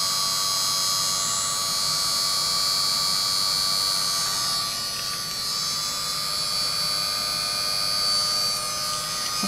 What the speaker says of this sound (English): Heat gun takes a second to warm up.